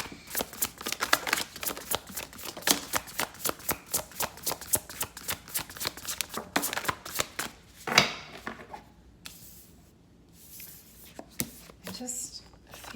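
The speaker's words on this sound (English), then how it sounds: "I feel like I'm not getting a good shuffle here" Cards are riffled and shuffled repeatedly in quick papery bursts, close up, with a brief quieter pause before the shuffling resumes.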